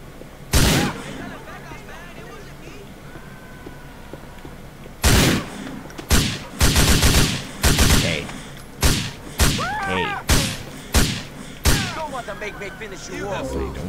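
Assault rifle carbine gunfire in Grand Theft Auto IV, one loud burst, a pause, then a run of repeated sharp bursts at close range with a voice between them.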